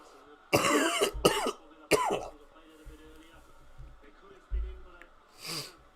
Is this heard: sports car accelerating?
no